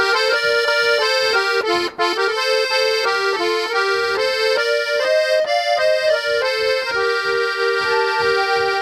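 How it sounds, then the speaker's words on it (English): Accordion melody played legato, sustained reedy notes flowing smoothly into one another in a continuous arched phrase, loud and close with no pauses between notes. "legato are when notes are tied together and there's usually an arch."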